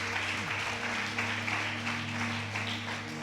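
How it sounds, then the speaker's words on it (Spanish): Congregation in a church applauding in a steady wash of claps, with a low sustained hum underneath and no speech. "Dele ese aplauso al Señor."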